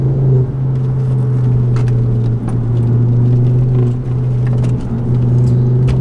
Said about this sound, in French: Ce bruit rauque du 5 cylindres.